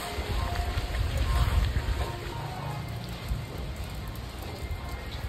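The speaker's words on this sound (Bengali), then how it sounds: "এখন শেষ বৃষ্টি নেমেই গেছে, আর এই অপেক্ষাতেই ছিলাম।" Steady rain falls outdoors, a continuous soft patter on surfaces holding at an even level through the whole stretch, with no talk over it.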